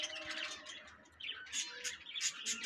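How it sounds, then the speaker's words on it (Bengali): Many small caged birds, including finches, chirp and tweet at a busy bird and animal market in Mirpur, Dhaka, with quick overlapping calls rising and falling at moderate distance. "এখানে অনেক ধরনের পাখি ওঠে"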